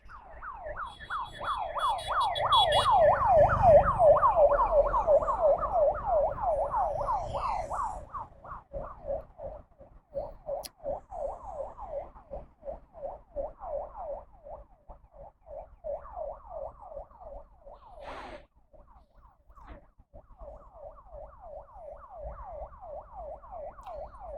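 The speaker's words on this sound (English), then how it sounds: "No wonder I heard so many fire trucks around today." Fire truck sirens wailing in a street in Vietnam, a loud rising and falling electronic wail that swells as it passes close by, then a steady repeating yelp continuing at moderate distance, with faint traffic underneath.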